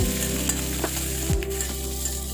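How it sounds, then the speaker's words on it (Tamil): Shallots, green chili and curry leaves sauté in a hot pan with a continuous close sizzle and occasional scraping stirs. "கருவேப்பிலை சேர்த்துட்டு வதக்கி விட்டுக்கலாம்"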